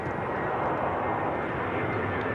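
An easyJet airliner arriving from Basel at Manchester Airport roars as a broad, steady jet rumble, loud and continuous throughout a short stretch without voices.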